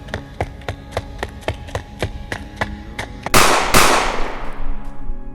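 Two sharp, loud gunshots ring out in quick succession after a run of steady, light rhythmic taps, each blast leaving a long fading tail in an animated scene.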